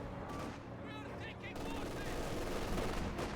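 Rapid gunfire from an MG-34 machine gun, part of a Company of Heroes 2 battle, fills the short stretch as a dense, continuous rattle with a commentator speaking over it.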